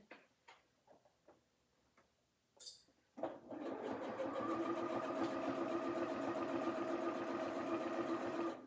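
Sewing machine stitching a fabric pillowcase: a few soft clicks and handling taps, then the motor starts and runs in a steady, fast rhythmic whir close by with no talk.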